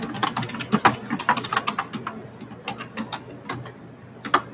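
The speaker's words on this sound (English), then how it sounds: "I'll type this in." Fingers typing a website address on a computer keyboard, a quick run of close, crisp key clicks in bursts with brief pauses, heard alone without talk.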